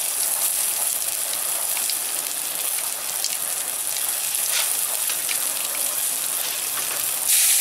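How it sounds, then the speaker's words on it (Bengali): Panch phoron spices and green chillies hitting hot oil in a pan for a river crab tamarind dish, making a loud, dense, continuous crackling sizzle like heavy rain, with no voices. "তেল দিয়ে দিয়েছি, এবারে মাছের পাঁচ ফোড়ন দিয়ে দিলাম।"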